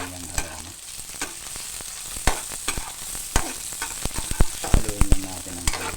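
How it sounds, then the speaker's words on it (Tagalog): Garlic and ginger sizzle in a pan for balbacua while a utensil stirs them, a steady frying hiss broken by sharp, irregular scrapes and clacks against the metal, close up. "Haluin lang natin ang haluin mga kailyan para hindi masunog at lumabas yung aroma ng ating mga ingredients"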